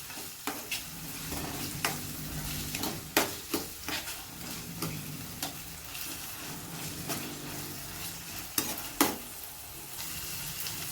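A tomato is stirred into a sizzling frying pan while cooking a dried tiny-shrimp (sukka jawla) dish at home, with steady frying hiss and repeated sharp scraping clacks of the spoon against the pan, close and alone.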